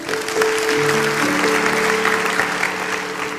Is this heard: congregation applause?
yes